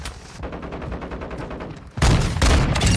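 Sniper rifle fire in Call of Duty Modern Warfare 2 team deathmatch, a rapid run of gunfire then two heavy loud blasts near the end, close and dominant.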